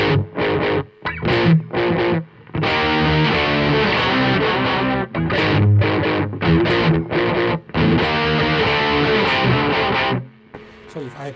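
Electric guitar played through a distortion effect in a NUX amp modeling editor setup, loud chopped chords and sustained distorted riffs in bursts separated by short gaps, alone without talk.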